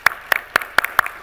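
A few hands clap in slow, evenly spaced claps, five distinct claps at a panel session of a capital markets conference, fairly close and moderate in volume.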